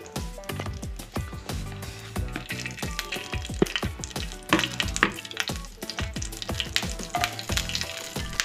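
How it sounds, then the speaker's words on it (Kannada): Cinnamon and cloves frying in a spoonful of oil in a pan, a steady close sizzle broken by repeated clinks and scrapes of a spoon, with no voices. "ಇದಕ್ಕೆ ನಾನು ಒಂದು ಸ್ಪೂನ್ ಆಯಿಲ್ ಹಾಕಿದ್ದೀನಿ ಚಕ್ಕೆ ಲವಂಗ ಎಲ್ಲ ಹಾಕ್ತಾ ಇದೀನಿ"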